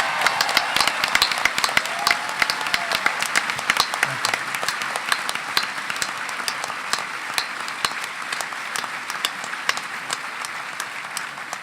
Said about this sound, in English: how about another round of applause for these two?